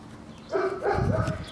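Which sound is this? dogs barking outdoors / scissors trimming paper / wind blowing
dogs barking outdoors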